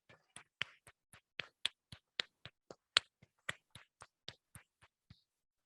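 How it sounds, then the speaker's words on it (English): About twenty sharp, separate hand claps at a forum closing, evenly spaced, fairly faint and dry with silence between them, sounding like a single clapper rather than a crowd. "I propose to clap strongly"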